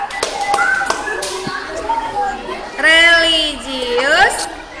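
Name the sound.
class doing a rhythmic clapping chant (tepuk PPK)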